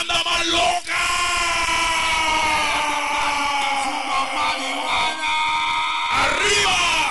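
A dense crowd screams, yells and whoops continuously at a sonidero sound-system dance in León, with loud, overlapping shouts filling the whole stretch and brief surges near the start and end.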